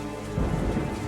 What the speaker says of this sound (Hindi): बस बाहर बारिश की आवाज आ रही थी